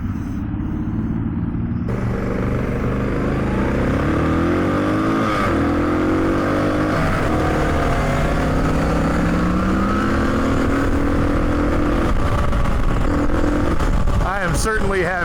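Two motorcycles, a Suzuki DR650 and a Yamaha MT-10, ride hard at full throttle, a loud continuous engine drone with rising and falling pitch sweeps throughout, heavy wind rumble underneath and a rev surge near the end.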